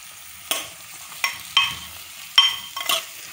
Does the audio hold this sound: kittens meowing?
no